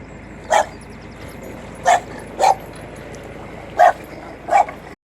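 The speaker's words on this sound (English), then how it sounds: "Now there's a fine looking dog." A dog gives five short, sharp barks spaced irregularly over a few seconds, fairly close and standing out clearly above a steady outdoor background hum.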